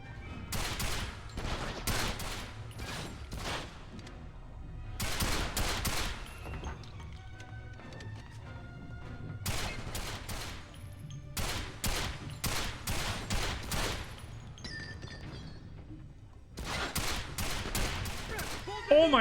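Gunfire in the PS2 video game 007: Quantum of Solace, repeated rapid bursts in several clusters with short pauses between them, loud and close, over a low game background.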